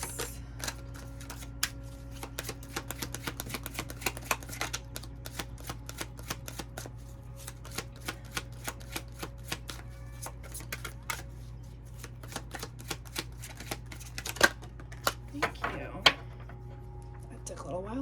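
Oracle cards are shuffled continuously at close range, a fast run of soft papery clicks and riffles over faint background hum.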